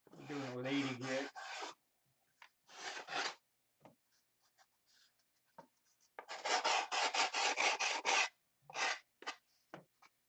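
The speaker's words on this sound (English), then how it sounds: "All this detail sanding takes time, but the roughing in it goes pretty quick." Rough 80-grit sandpaper rasping against wood in bursts of quick back-and-forth strokes, with short pauses and a brief voice at the start.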